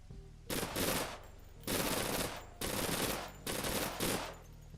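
Submachine gun fire in the online game Persist Online, four sustained rapid-fire bursts separated by short pauses, loud and close with no talk.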